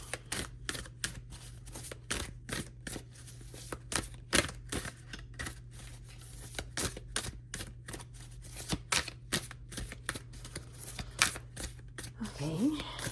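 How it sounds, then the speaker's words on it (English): A deck of tarot cards being shuffled and cut, close up, giving a run of quick, irregular riffling and slapping flicks throughout with a steady low hum beneath. "they want me to cut the cards"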